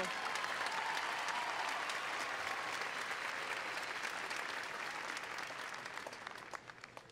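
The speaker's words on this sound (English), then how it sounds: "one more round of applause for Brenda and for all of you." Sustained audience applause fills a university undergraduate commencement ceremony, a dense wash of many hands clapping at steady strength that thins slightly toward the end.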